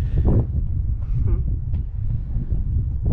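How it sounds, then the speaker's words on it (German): Wind buffets the microphone in low rumbling gusts under a bridge near Spitzkoppe in Namibia, with people talking and laughing over it. "ja, ein bisschen Wind."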